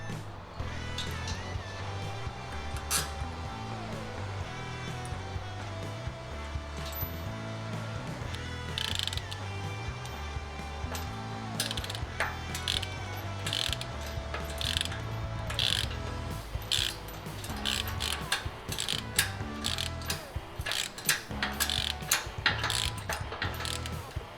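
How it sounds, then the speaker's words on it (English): A hand ratchet tightens bolts on a steel off-road bumper being fitted to a Lexus GX470, with rhythmic clicking pawl strokes repeating throughout at close range. Faint other mechanical noise sits beneath the ratcheting. "I'm just gonna keep bolting the sides in."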